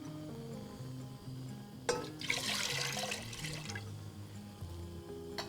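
Water gushes into a pot for a second or two, a rushing splash over soft background music.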